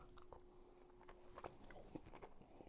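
Biting into crunchy skillet corn brûlée with a sugar-crusted top: close, quiet crunching and chewing, a few crisp cracks over soft low background noise.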